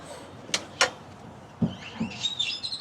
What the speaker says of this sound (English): The birds are chirping this morning.